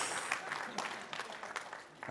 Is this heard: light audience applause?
yes